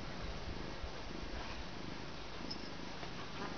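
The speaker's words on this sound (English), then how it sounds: "There's a kitty right over you." A cat purring close by in a steady, soft, continuous rumble with no pauses, quiet and alone.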